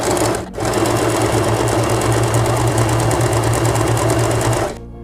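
A Usha Janome sewing machine runs a tight, narrow overlock stitch for several seconds, a loud, close, steady mechanical whir that halts abruptly at the end.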